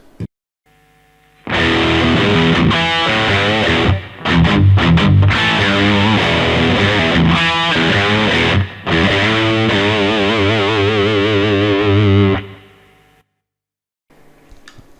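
Heavily overdriven electric guitar through a Wampler Pinnacle overdrive pedal in modern mode with gain boost plays loud, saturated chords and riffs in bursts, then rings out into silence.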